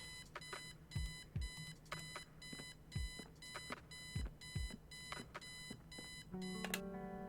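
An alarm clock in the point-and-click game Kathy Rain beeps in a steady, insistent pattern of bright repeated bursts that continue for several seconds, with low thudding knocks in between, loud and close with no voices.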